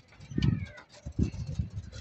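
Pet Stanley Boy pigeons being fed, with soft, low, throaty cooing in a few short bursts, close by, and faint rustling between them.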